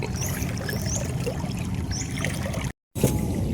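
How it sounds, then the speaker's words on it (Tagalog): A strong river current in brackish water rushes and gurgles steadily and close, with trickling and lapping sounds throughout and a brief cut to silence near the end. "Sobrang lakas ng agos."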